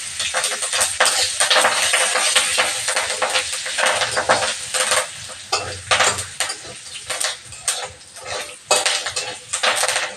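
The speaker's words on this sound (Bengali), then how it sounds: "কড়াইতে দেব সাদা তেল, ফোড়নে দেব সরিষা, এখানে দিব হিং আর হলো কারি পাতা।" Mustard seeds, asafoetida and curry leaves sizzle in hot white oil in a kadai, a loud close crackle mixed with metal spoon scrapes and clinks against the pan, with no talk.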